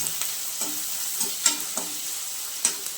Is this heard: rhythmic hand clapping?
no